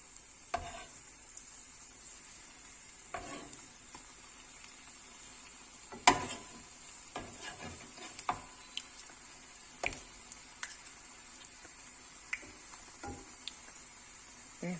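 Milk buns fry gently in oil, giving a soft, steady sizzle close by with scattered light clicks and taps from turning or stirring at irregular intervals.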